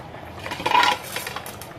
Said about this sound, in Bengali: প্রনগুলো দিয়ে দিলাম, জাস্ট হালকা করে নাড়িয়ে